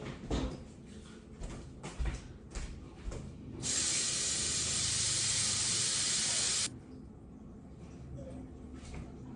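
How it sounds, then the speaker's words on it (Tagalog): Water from a running tap splashes onto a clipper blade being rinsed, a loud steady hiss lasting about three seconds, framed by scattered clicks and handling noises before and after. "Ayan yung hugasan niya na naman to ng running water"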